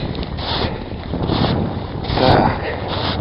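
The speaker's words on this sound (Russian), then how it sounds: "Ветер, конечно, поднялся сегодня." Strong wind gusts across open lake ice on an April fishing trip, a loud continuous roar buffeting close by with rising and falling surges.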